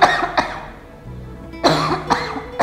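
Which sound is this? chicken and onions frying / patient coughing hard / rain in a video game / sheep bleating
patient coughing hard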